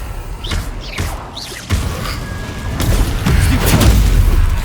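Bombarda spell blasts in Hogwarts Legacy, heard as booming, crashing explosions that swell and grow denser toward the end, loud and close, with no talking.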